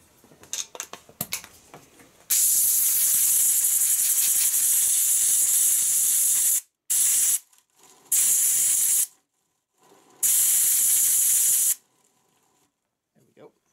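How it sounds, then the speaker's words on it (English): Compressed air blasts into a 30-year-old Klippo lawn mower, a loud steady hiss broken into several long and short bursts, with quiet clattering before it starts. "we're going to give it a shot of air"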